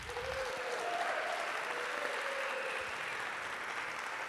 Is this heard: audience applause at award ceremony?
yes